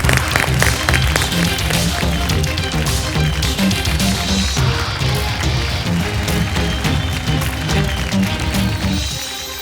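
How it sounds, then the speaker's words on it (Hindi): Loud, sustained applause fills a TV pitch-show stage as a startup founder pitching mind-tech headphones is welcomed; dense clapping runs continuously over background music and fades slightly at the end. "तो चलिए जोरदार तालियों से स्वागत करते हैं रिया"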